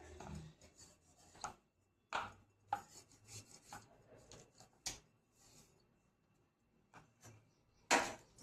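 A chapati is cut into small pieces on a plate, producing quiet, irregular chopping taps and scrapes close by, with a few sharper knocks standing out from the soft background.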